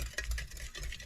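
Ingredients with a half teaspoon of salt stirred together for a fluffy puff pastry bread dough, a soft, quiet swishing and scraping over a low rumble, brief and close.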